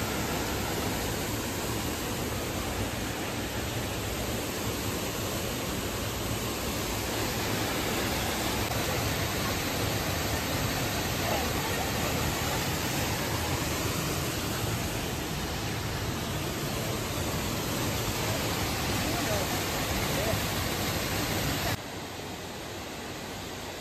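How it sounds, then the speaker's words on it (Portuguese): The Cachoeira do Fraga waterfall on the Rio Brumado at Rio de Contas, in Bahia's Chapada Diamantina, gives a continuous broad rushing roar. It holds even and unbroken for over twenty seconds, then drops slightly quieter at the very end. "Aqui uma vista da Cachoeira do Fraga, né?"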